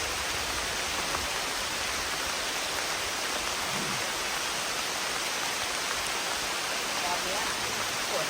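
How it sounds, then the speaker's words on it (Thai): Heavy rain pouring down in a steady, dense hiss with no breaks, loud and close, as if drumming on nearby surfaces. "ตอนนี้ฝนตกหนักแบบหนักจัดเลยนะ"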